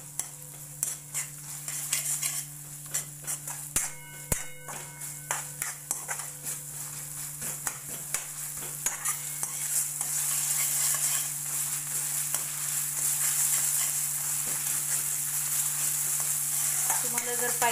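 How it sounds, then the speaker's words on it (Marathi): Raw onion and masala sizzling in a pan for sukka mutton, heard up close under steady frying. Repeated stirring scrapes and clinks come first, then the sizzle grows louder and more constant. "आता आपण हा कच्चा कांदा घालूया यात आणि हा मसाला आणि कांदा सोबतच फ्राय करू आपण"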